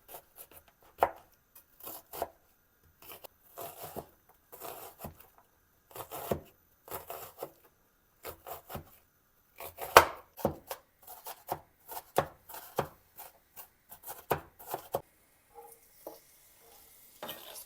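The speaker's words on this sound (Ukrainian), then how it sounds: "Мілко буду нарізати цибульку, тому що цибулю буду тушкувати." Rapid, irregular knife taps on a cutting board as an onion is finely chopped, a dense run of crisp chops with brief pauses, close and clear with no talking.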